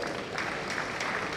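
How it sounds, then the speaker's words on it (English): A brief, dense burst of audience applause at a meeting on governance and inclusion, steady clapping throughout with no pause. "Please, let's give a round of applause"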